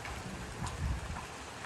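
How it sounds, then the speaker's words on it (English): Steady rain falls on a house construction site in Thailand, an even close hiss of drops with a faint low rumble, alone with no voices. "Well, it started raining again."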